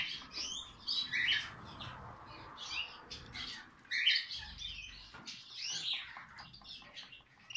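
Gloster canaries chirp and twitter in quick bright bursts, close and fairly loud, with several birds calling over one another at an uneven pace and no talking.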